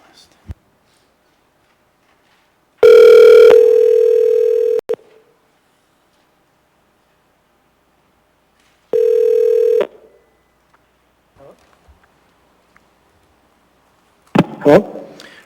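A speakerphone call is placed during a municipal assembly public hearing: a loud steady dial tone sounds, cuts off, then returns briefly, followed by scattered clicks and a few tones as the number is dialed.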